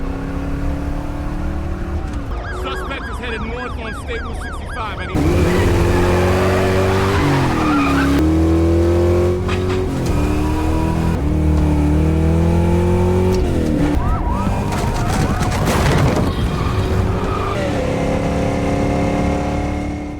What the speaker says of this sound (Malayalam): പോലീസ് കാറും ജാക്ക് റീച്ചറുടെ കാറും തമ്മിലുള്ള ഒരു ചേസിംഗ് അരങ്ങേറുകയാണ്.